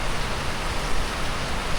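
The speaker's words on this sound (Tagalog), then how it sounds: "Maulang araw ngayon." Rain falls in a dense, steady wash of broadband hiss, loud and constant with no distinct drops or pauses, and no one talks.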